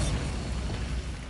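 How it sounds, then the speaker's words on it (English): A Bombarda spell blast in Hogwarts Legacy: a short, dense, low booming rumble that stays loud for just over a second, with no voices. "Bombarda"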